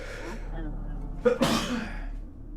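A single sharp sneeze bursts out close to the microphone during a casual live chat stream, with a person talking before and after it over a low steady hum.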